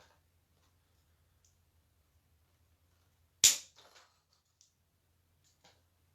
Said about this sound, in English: Cut off the fiddly bits, and I'm just using wire cutters.